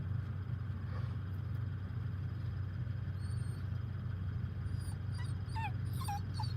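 A puppy whimpers in a car, thin high whines and yips rising toward the end over a constant low engine rumble.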